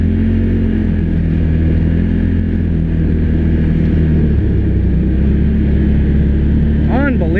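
A 2021 Polaris RZR XP Pro Turbo Premium engine drones loud and close, accelerating without full throttle, with a steady mechanical roar throughout and a voice speaking over it.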